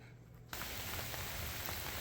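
Rain falling outdoors, a steady dense hiss that starts abruptly after a brief quieter moment, then continues evenly and fairly loud.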